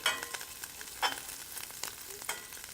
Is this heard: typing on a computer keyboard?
no